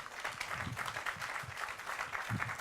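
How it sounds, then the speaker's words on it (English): At a Metrolink station grand opening, an audience gives a round of applause: dense, continuous clapping heard from a distance and fairly faint, with no speech over it. "Give them a round of applause."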